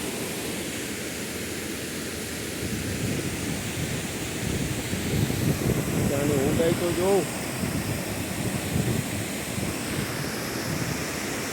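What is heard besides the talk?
water rushing over a check dam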